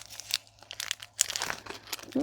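Packaging being cut open during a June 2022 subscription box unboxing, with close crinkling and tearing of wrapper plastic in a few quick bursts, no talk heard.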